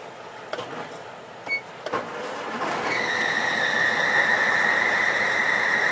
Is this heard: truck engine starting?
yes